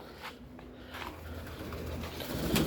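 Soft pigeon coos sit under a steady low background murmur, with a brighter, louder rustle toward the end.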